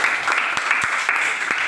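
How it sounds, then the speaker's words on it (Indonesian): Schoolchildren in a ninth-grade religion class clap together for a classmate, a brief burst of steady mid-level applause with a few sharper individual claps standing out. "terima kasih, beri tepuk tangan"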